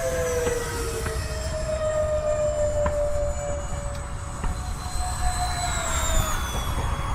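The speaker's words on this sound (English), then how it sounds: "now let's try another full throttle low pass, but let's try and go a bit lower" An E-flite A-10 64mm electric ducted-fan RC jet makes a full-throttle low pass on its maiden flight. A loud, steady high-pitched whine shifts downward in pitch as it sweeps past nearby, with wind rumble underneath and no voices.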